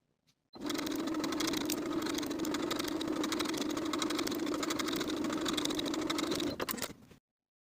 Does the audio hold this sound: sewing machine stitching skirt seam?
yes